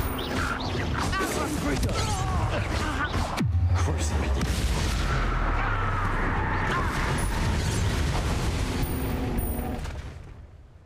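In a Harry Potter video game, a Confringo blasting curse erupts in a deep, loud explosion with a long rumbling tail that fades slowly, amid spell effects and busy game sounds.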